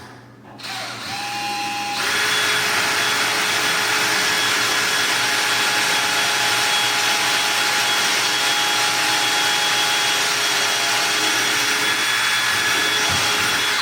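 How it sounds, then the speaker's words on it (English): A power drill revs up and whines steadily for over ten seconds while drilling wood for cabinet handles, loud and close, with a constant high-pitched motor tone and no voices. "So we're gonna go ahead and drill this one, clamp it down, Joel."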